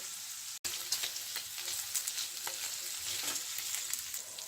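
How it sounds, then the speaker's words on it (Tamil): Paneer cubes shallow frying in a little oil, a steady close hiss and crackle with a brief stir or clank near the start and no talk. "இதை இப்படி நான் கொஞ்சமான எண்ணெய் விட்டு தான் பொரித்தெடுக்கிறேன்"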